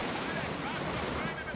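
Artillery and gunfire from a strategy video game form a dense, continuous rumble of blasts and crackling shots, loud and unbroken throughout.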